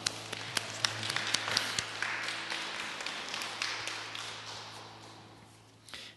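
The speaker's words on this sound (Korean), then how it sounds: "우리 하나님께 영광의 박수 올려드리겠습니다" A church congregation at a Korean Sunday worship service in Freiburg breaks into applause, a burst of clapping that starts with sharp claps and thins out over several seconds.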